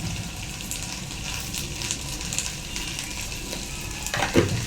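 Okra and onion bhujia stirred in a pan as it cooks, a steady soft sizzle of frying throughout with a brief louder scrape of stirring near the end.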